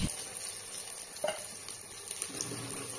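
Food frying in oil inside a pressure cooker, giving a soft, steady sizzling hiss with a couple of faint stirring scrapes, quiet and close, with no voices.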